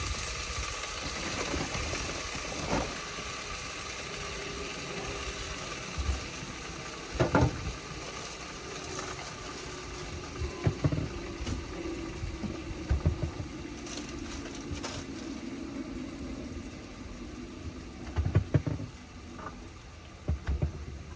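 Mushrooms and sprouts frying in a pan at a campervan campsite, a soft continuous sizzle with scattered clicks and scrapes of stirring, close and fairly quiet.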